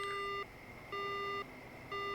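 Repeated electronic tones from a dead phone line in the horror game Death Mark, three identical steady beeps with short gaps, clear and evenly spaced.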